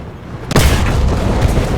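One loud, close tank cannon shot firing an APHE shell for a kill in War Thunder, a video game, a sudden heavy boom followed by a long rumbling roar of echo and engine noise.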